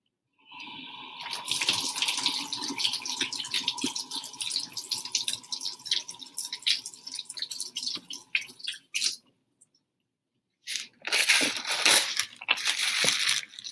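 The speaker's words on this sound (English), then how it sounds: "first what you're going to do is you're going to wash it with a little bit of soap" Steel wool washed with soap under a running tap in a lab sink, a continuous hiss of water with squishy crunching, a brief silence, then the water resumes, no talking.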